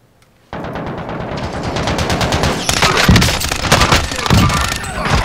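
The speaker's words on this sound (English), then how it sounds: "when he popped out and started shooting at me" Rapid automatic gunfire in a shooter video game, a dense continuous barrage of shots at close range that swells louder midway, with no talking over it.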